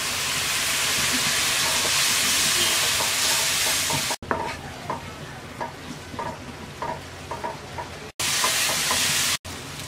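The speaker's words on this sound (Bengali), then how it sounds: "এবার অল্প একটু পানি দিয়ে মশলাটা কষিয়ে নেব।" Masala spice paste loosened with a little water sizzles loudly in a pan for hilsa fish dopeyaja, with a steady frying hiss broken by rhythmic scraping stirs and brief cuts.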